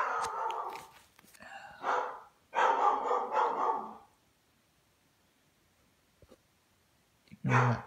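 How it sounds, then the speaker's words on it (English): A pet dog barks indoors in several short bursts, fairly close, then falls quiet before one more bark at the end, with a person's voice nearby. "Ignore that. That's our dog"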